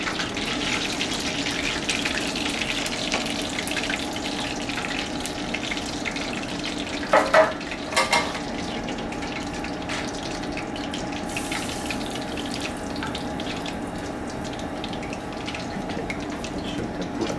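Kitchen tap running during cleanup, a steady rushing stream of water held at an even level throughout, with a couple of brief clattering knocks near the middle and no speech.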